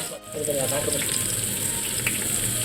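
Onions frying in oil in a pan for chicken sambar give a steady, close sizzle that holds throughout, with a watery, hissing texture and no talk over it.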